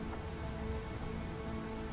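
Rain from the video game I Remember the Rain falls in a steady, dense wash of drops on a hard surface, soft and continuous with no voices.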